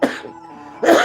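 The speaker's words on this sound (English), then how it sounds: "laughing makes me cough sometimes" Close, sharp coughs come at the start and end with a brief strained pause between them.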